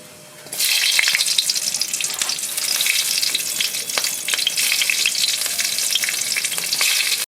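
Radhuni seeds and green chillies hit hot oil for tempering, setting off a sudden loud, close sizzle that stays dense and crackling for several seconds with scattered pops, then stops abruptly.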